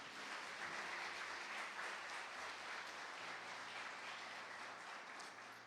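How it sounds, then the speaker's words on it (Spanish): Congregation in a church clapping for the Lord during a sermon on gifts of healing, a sustained broad patter of many hands, even and moderately distant, with a faint low hum underneath and no talking. "Denle un aplauso al Señor."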